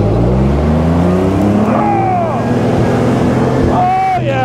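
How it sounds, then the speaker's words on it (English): A Jeep CJ-5 engine revs loud and close, rising and falling as the rear tires spin during a river crossing, with voices audible over the engine. "Hey, Santa, check and see if the rear tires are spinning."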